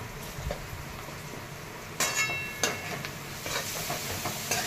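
Green chilli, garlic and ginger sautéing in a pan with a steady low sizzle, with a few sharper spatters and crackles midway, close and without talk.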